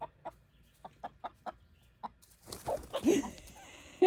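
Chickens clucking near a chicken tractor: a series of short, evenly spaced clucks, then a louder, busier flurry of clucking and fluttering as the birds move about.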